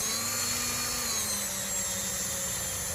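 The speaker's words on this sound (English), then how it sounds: "bumping against the bottom and polishing up that brass needle seat" A power tool spinning steadily while it polishes a brass carburetor needle seat on an old motorcycle, giving a constant high-pitched whine with a faint grinding edge that stays at one level throughout.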